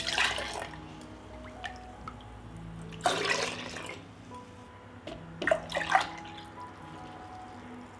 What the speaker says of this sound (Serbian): Sada mleko sipam u čiste tegle